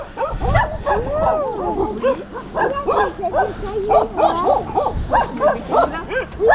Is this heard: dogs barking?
yes